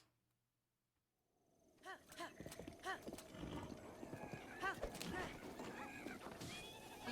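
A horse in The Legend of Zelda: Breath of the Wild whinnies and clip-clops after a short silence, with hoofbeats and neighs rising over game sounds and some talk.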